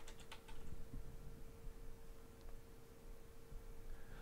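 Very faint, scattered key clicks from a computer keyboard as a command is entered at a command prompt, set in a low steady background hiss with a thin constant hum.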